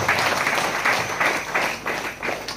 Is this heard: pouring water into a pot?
no